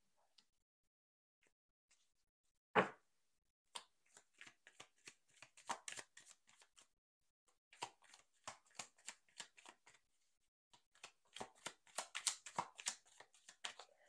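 Tarot cards are shuffled quietly at close range, with one sharp snap followed by irregular bursts of flicking, riffling card sounds separated by short pauses.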